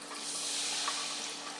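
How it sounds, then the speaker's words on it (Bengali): Hot water goes into spice paste frying in a pan during a home curry preparation, producing a brief, soft splashing hiss that swells and fades within a couple of seconds, fairly quiet and without voices. "মশলা কষানোর জন্য একটু পানি দেব,"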